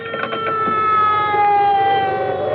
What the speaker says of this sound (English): I think I hear a siren